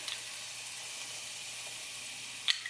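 Onions and garlic sauteing in a hot pan give a steady soft sizzle and hiss, close and faint, with one brief clink near the end.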